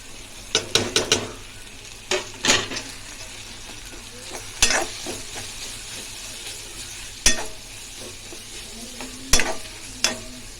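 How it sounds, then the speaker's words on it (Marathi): Spices with softened tomato stirred over low heat in a pan, with repeated scraping stirs and clinks over a steady soft sizzle, fairly close and with no talk. "दोन मिनटं चांगलं परतून घेऊया मंद आचेवर"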